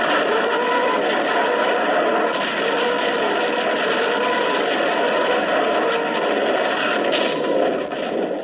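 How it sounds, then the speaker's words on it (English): A Soviet Katyusha rocket launcher from World War II fires, producing a loud, sustained roaring whoosh that holds steady for several seconds without pause. "Another infamous sound that makes it to this list is the Soviet Katyusha rocket launcher"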